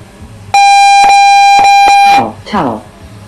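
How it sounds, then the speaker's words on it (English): At a 5-man paintball tournament field, a point confirmation buzzer sounds as a series of loud electronic tones in repeated bursts, close and piercing, followed by a short voice afterward. "They're going to go and hit that buzzer to get the point confirmation."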